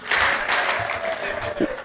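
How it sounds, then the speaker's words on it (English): Audience applause fills a room at an awards dinner, a steady wash of many hands clapping that holds for the whole stretch, with a few voices mixed in beneath it. "Please give them all a round of applause."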